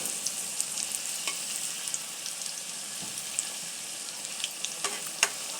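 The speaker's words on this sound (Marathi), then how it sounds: "अशा पद्धतीनं आपण असं परतून घेऊया." Bitter gourd fritters frying in oil in a pan over low heat, a steady close sizzle with scattered crackles and occasional light scrapes of stirring.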